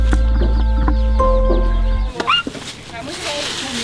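Chickens cluck in a few short calls at a trekking site in Chiang Mai, Thailand, heard over a steady low hum and people talking nearby.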